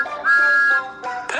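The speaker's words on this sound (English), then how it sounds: "has a whistle that sounds like this" Thomas, the cheeky little blue number 1 steam engine, sounds his whistle: a bright, loud, sustained tone that holds steady for about half a second, then gives a shorter second blast, with no talking.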